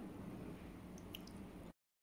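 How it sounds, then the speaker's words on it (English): Melted butter and chocolate for brownies are stirred together, giving soft, wet squishing and sticky dripping sounds up close, quiet and continuous until the sound cuts off abruptly. "So let's start mixing."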